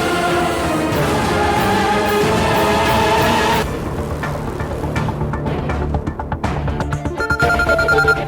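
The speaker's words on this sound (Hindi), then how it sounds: "इश्की का फोन बार बार बज रहा है" A mobile phone rings over and over in a domestic drama scene, with a steady repeating electronic tone for the first few seconds, then the ringing fades under a busier, fluctuating musical underscore.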